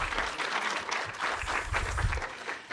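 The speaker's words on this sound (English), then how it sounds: "could we just have a round of applause for all the little independent filmmakers?" An audience at a school Halloween event applauds independent filmmakers, a moderately loud wash of clapping for under three seconds, with no voices over it.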